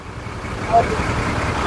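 An expired vehicle's engine idles at a political rally gathering, a steady low rumble running throughout while people talk nearby.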